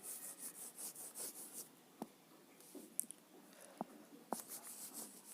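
Soft, rhythmic rubbing of a duster wiping writing off a classroom board, repeated faint strokes with a few sharp taps, quiet and close with no talking.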